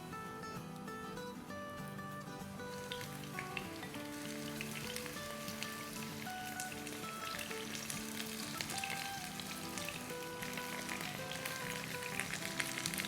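Chicken pieces coated in flour and cornstarch fry in hot oil over medium-high flame, a loud, steady sizzle and crackle that holds throughout, close up with no talking.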